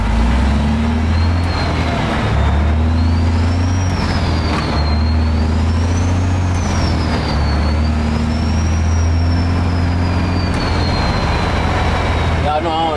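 A semi truck drives through Atlanta and works up through its gears. A loud, steady engine drone and a wavering whine rise and fall as it shifts, with a brief mechanical rattle near the end.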